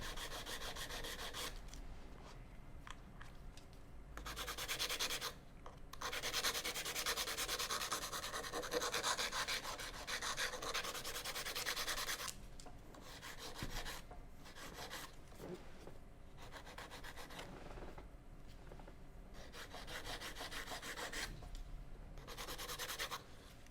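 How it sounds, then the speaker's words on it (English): An acrylic nail is filed along its side in repeated rasping strokes, close and distinct, with short pauses between bursts and no talking. "And I'm going to file this one too. File the side."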